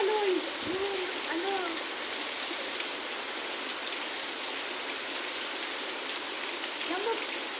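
Heavy rain pours continuously during typhoon Carina, a steady loud hiss of rainfall with water running, while a voice speaks briefly near the start and again near the end.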